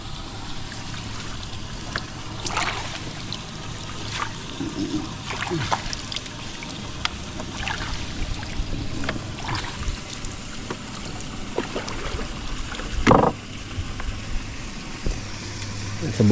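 Water flows and trickles through a stream channel in a steady wash, with occasional splashes and bumps, while people talk over it now and then.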